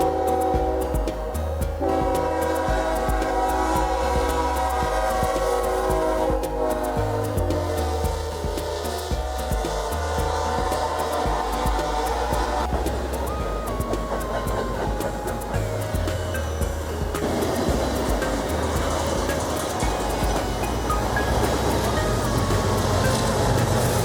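A Norfolk Southern freight train rumbles past continuously, its horn blaring in sustained tones over the loud, steady clatter of rolling cars.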